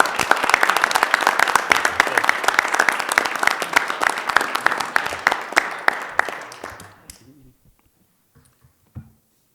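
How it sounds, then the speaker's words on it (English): A room at a city council meeting breaks into dense, hearty applause that holds steady for about six seconds, then thins into scattered claps and fades to near silence, with a brief later clap. "So I just want to give a round of applause to Steve and his accomplishments."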